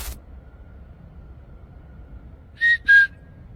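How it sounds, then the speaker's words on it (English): Two short, clear whistles sound in quick succession from a distance at a remote campsite, following a long stretch of quiet low background noise. "It wasn't my whistle, it was a different one."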